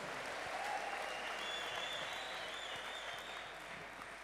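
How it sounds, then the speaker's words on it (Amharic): A crowd at a religious gathering claps in sustained applause, full and fairly close, holding steady and easing slightly near the end. "አጨብጭቡ።"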